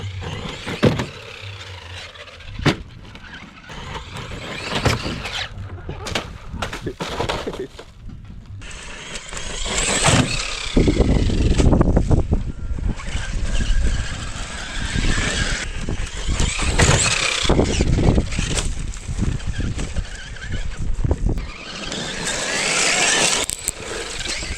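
Traxxas Maxx RC truck bashing around outdoors, with bursts of motor whine, sharp landing thuds and clattering impacts scattered throughout, growing louder and busier midway, with voices talking in between.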